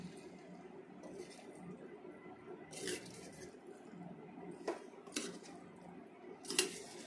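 Pasta being stirred with masala in a pan, a faint wet shuffling broken by several sharp metallic scrapes and clinks of a spoon against the pan.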